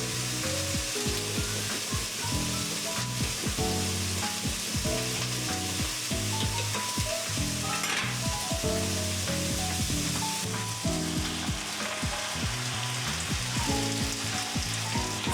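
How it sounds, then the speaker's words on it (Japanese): A soy sauce, mirin, sake and sugar glaze sizzles loudly in a frying pan while being stirred and reduced, a dense continuous bubbling hiss with repeated scraping strokes throughout. "水分を飛ばしながら照りが出るまでしっかりとタレを絡める。"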